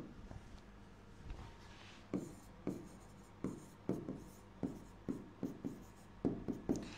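Chalk or marker writing on a board during a classroom accounting lesson: a series of quick, sharp strokes and taps in an uneven rhythm, close and fairly quiet, with no talking.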